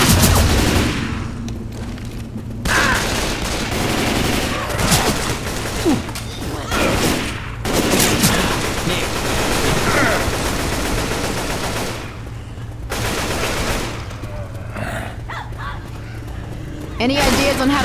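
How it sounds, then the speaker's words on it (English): Gunfire in the zombie shooter Left 4 Dead 2, with dense bursts of shots and booms running almost continuously under a constant game soundtrack, broken by short lulls, while players talk over it. "Nick, I know you shot me."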